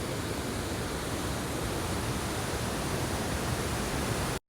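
Conwy Falls in Wales roars as a dense, constant wash of falling water, loud and close, filling the whole stretch without pause before cutting off abruptly at the end.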